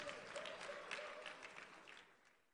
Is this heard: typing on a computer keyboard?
no